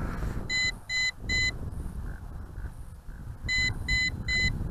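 An MJX B12 EIS camera drone sounds its low-voltage return-to-home warning: two separate sets of three sharp, high electronic beeps, clear and fairly loud over a steady hiss.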